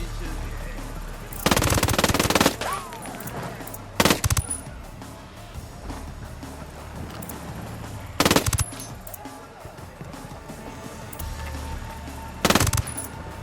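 Gunfire in Tom Clancy's Ghost Recon Wildlands video game: several short, loud machine-gun bursts spaced a few seconds apart over a lower background rumble.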